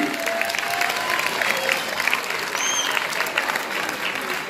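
Sustained audience applause fills a sports awards ceremony hall in Florange, a dense steady clapping from a crowd that holds at a constant level throughout.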